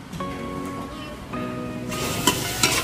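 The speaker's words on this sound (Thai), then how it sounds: "แม่ครัวก็จะหันไป ผัดหมูสับนะคะเอาไปโรยข้างหน้า" Minced pork stir-fries in a pan in a Thai kitchen, a steady sizzle that grows louder and hissier partway through, with someone talking over it.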